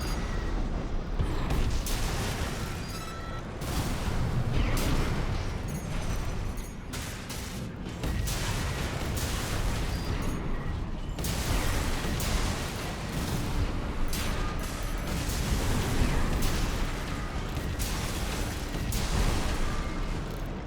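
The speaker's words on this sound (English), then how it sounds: "these double shotguns are doing the work" Twin shotguns blasting over and over in Armored Core 6, a dense, loud stream of booming shots and mechanical clatter running without pause amid constant game action.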